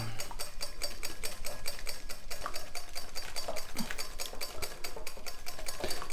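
A whisk beats oil into homemade mayonnaise in a bowl by hand, producing fast, even rhythmic ticking strokes against the bowl, close and continuous without speech.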